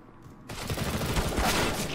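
Counter-Strike: Global Offensive gunfire in a Wingman match, a sudden dense burst of rapid shots that starts after a brief quiet moment and keeps rattling loudly to the end.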